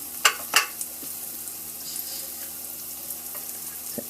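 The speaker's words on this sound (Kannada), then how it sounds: "ಈರುಳ್ಳಿ ಚೆನ್ನಾಗಿ ಬೇಯಬೇಕು" Onions frying in a pan for cabbage palya give a quiet, steady sizzle, with a couple of sharp stirring clatters near the start and no talking.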